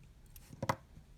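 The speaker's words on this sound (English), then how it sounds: "And then we can cut that yarn." Scissors snip through crochet yarn while a mushroom applique is finished, a couple of soft, close cuts in a quiet room.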